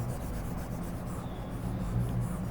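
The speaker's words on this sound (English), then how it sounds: "Let me just erase this part." Eraser rubs steadily across a board wiping away math writing, a close, continuous scrubbing swish for a couple of seconds with no speech.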